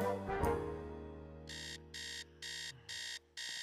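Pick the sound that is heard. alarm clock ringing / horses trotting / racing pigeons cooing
alarm clock ringing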